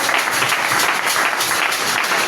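Congregation applauding in an evangelical church service, a dense, sustained burst of clapping from many hands, loud and even throughout.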